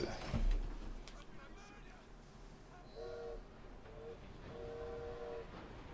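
A video game train starts up amid quiet background noise, with a faint horn-like tone sounding in several short bursts in the later seconds; a voice speaks near the start.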